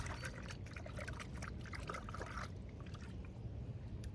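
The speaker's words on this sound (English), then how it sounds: "I'm just gonna wash my hands in the water." Hands wash in running water, a steady pour and trickle with splashing that thins out toward the end, close and fairly quiet.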